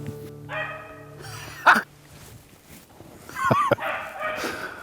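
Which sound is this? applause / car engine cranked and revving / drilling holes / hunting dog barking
hunting dog barking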